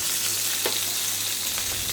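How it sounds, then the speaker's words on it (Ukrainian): Asparagus frying in a pan, a steady close sizzle that runs without a break, with a faint stirring scrape near the middle and no voices. "Викладаємо спаржу на сковорідку та починаємо смажити."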